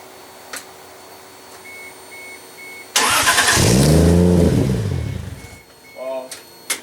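An engine cranks and fires with a loud, rising roar, then settles and fades over a few seconds. A faint chime beeps before the start, and a voice comes in briefly afterward.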